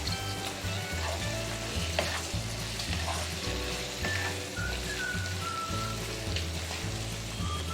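Carrots, cabbage, capsicum and other vegetables stir-frying in a pan for chicken vegetable spaghetti, a steady loud sizzle with a repeating low rhythmic thump running through, no talking.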